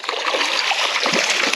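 A hooked Sunshine Bass thrashes at the surface of a put-and-take fishing lake, giving a continuous, close, loud splashing and churning of water.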